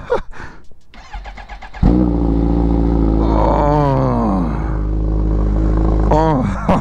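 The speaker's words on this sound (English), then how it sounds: "Just how it sounds when it first starts. It's such a deeper tone than a typical inline four bike." Kawasaki Ninja H2R motorcycle engine starting cold, a loud deep-toned idle settling in after the catch, then a couple of rising revs, close up, with a voice talking over parts of it.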